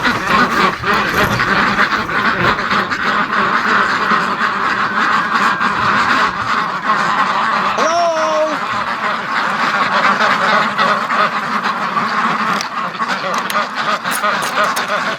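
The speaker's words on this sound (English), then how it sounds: "Hello, duckies!" Muscovy ducks at a lake give soft, breathy calls over a busy outdoor background, while a person talks and one clear call rises briefly near the middle.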